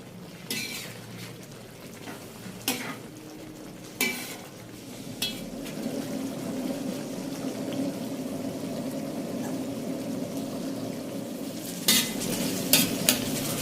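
Chicken liver sizzles and fries on a hot tawa as yogurt liquid cooks off, a steady crackling hiss broken by several sharp clinks and scrapes of a spatula stirring.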